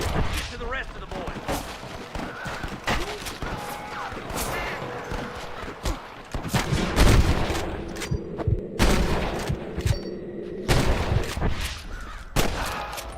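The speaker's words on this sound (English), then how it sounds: "Damn fine shooting, boys." Gunfire in the Western video game Red Dead Redemption: a rapid fusillade of shots crackling and booming in bursts, with heavier blasts mid-way, mixed with game sounds and talk.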